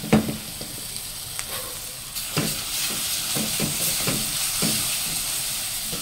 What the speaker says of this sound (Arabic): واشوح برده الثوم مش هصفره